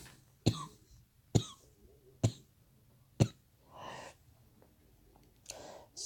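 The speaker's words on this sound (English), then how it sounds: "excuse me for coughing" A person coughs four times in sharp, close bursts at roughly one-second intervals, followed by heavy breaths and a softer throat sound.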